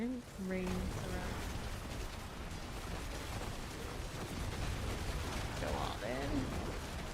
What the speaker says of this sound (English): All the explosions going wild here.